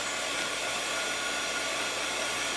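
A hair dryer blows steadily and loudly, close up, drying a wet cotton face mask freshly colored with Chalk Couture inks, a constant airy roar with no breaks.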